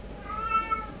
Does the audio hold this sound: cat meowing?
yes